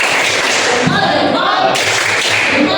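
A class of students doing a rhythmic salute clap in a Catholic religious education lesson, heard as loud, busy clapping with thumps and voices mixed in.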